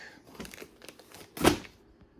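A plastic bag from a Ron Wheels Aeron X unboxing crinkles and rustles up close, with soft scattered crackles building to one louder crumpling swish before fading.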